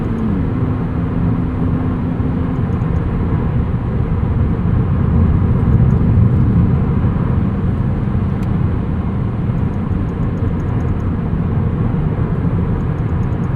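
A 2022 Maserati MC20 on the move, with a steady loud low engine and road drone heard from inside the cabin and a faint turbo whoosh woven through it.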